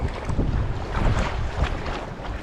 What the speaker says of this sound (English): that wind has kicked up